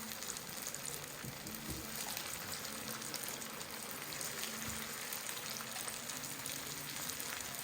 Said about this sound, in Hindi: एक एक करके चिप्स को डाल दे।